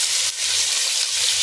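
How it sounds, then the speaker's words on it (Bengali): Dried fish sizzles loudly in a hot pan with gourd and eggplant, a dense, steady crackle of frying close up with no one talking. "এগুলা একসাথে ভেজে নিব।"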